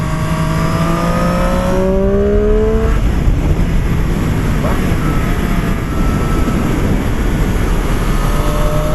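A Triumph Street Triple 765 RS motorcycle engine accelerates loudly and close, its rising tone sweeping upward through the gears over a constant roar, with no talking.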